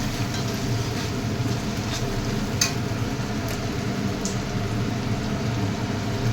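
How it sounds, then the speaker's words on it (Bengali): Chili chicken cooking in tomato sauce in a home kitchen pan gives a steady, low bubbling sizzle with a few faint high crackles, continuous and close, with no talking. "একটু ভেজে নিয়ে একটু টমেটো সসও দিয়ে দেবো।"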